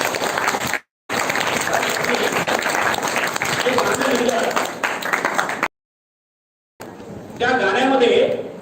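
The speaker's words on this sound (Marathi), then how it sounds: "त्यांच्यासाठी एकदा जोरदार टाळ्या" Loud, dense applause from an audience at a school Prerna Din event, cut by a short gap near the start and a longer silence later, then ending with a voice speaking over the clapping.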